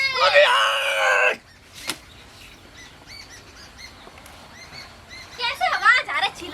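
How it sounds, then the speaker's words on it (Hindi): Loud shouting voices outside a house, a burst of raised, screaming calls at the start and again near the end, with quieter chatter and bird chirps between. "कौन है, कौन दो गला इतना चिल्ला रहे हैं यहाँ पे आके?"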